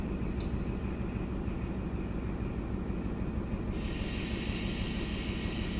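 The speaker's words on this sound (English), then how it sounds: "There you are, you can hear the brakes." Class 43 HST brakes in Train Sim World 5 on the London St Pancras to Sheffield run: a steady rumble with continuous hiss that turns brighter and airier partway through.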